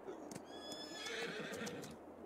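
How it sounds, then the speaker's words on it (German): A horse whinnies loudly in a brief, wavering call in the video game Landwirtschafts-Simulator 22, with a faint hoof clop underneath. "Das Pferd hieß übersetzt Wind"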